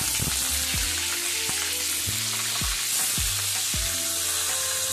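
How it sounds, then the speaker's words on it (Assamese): Dry fish frying in a pan, a continuous dense sizzle with a handful of sharp scraping stirs and utensil knocks spaced through it, close and loud throughout. "প্ৰথমত মই মাছখিনি ভাজি লম।"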